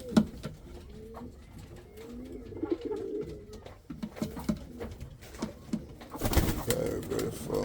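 Pigeons coo repeatedly at a rural breeding loft, soft rolling calls coming in overlapping bursts with faint wing and foot patter, growing louder and busier near the end.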